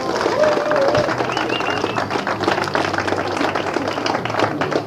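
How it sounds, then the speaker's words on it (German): Crowd applause at an outdoor climate demonstration in Gießen, following a speech on transport and mobility; a steady wash of clapping and crowd noise runs throughout, fairly loud and continuous. "Applaus"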